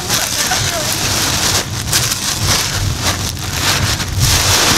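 Strong wind roars against a vehicle driving the Jambi to Padang road during Lebaran homecoming travel, a loud, constant buffeting rush with gusty surges that drowns out detail.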